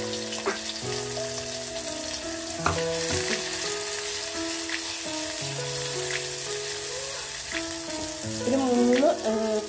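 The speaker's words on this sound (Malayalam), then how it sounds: "ഇതും കൂടെ നമുക്ക് ആ എണ്ണയ്ക്കകത്തോട്ട് വറുത്ത് കോരാം." Shallots sliced into rings sizzle and crackle in hot oil for a Kerala ginger curry, a steady, close frying hiss with occasional stirring, with melodic tones playing in the background.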